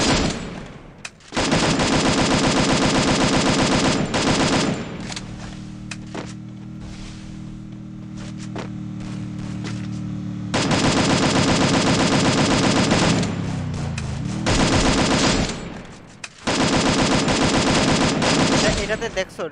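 Rapid automatic fire from an Evo M4A1 rifle in a video game, loud sustained bursts broken by short pauses, with quieter in-game sounds between the volleys.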